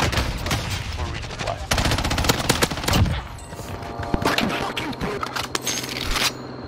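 Rapid bursts of gunfire from a Call of Duty Warzone match rattle through the whole stretch, loud and dense, with overlapping shots and some background game noise.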